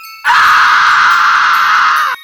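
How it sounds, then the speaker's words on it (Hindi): A terrifying horror-story scream rings out loud and sustained for about two seconds, starting abruptly and ending sharply, with no other sound. "भयानक चीख गूंज उठी।"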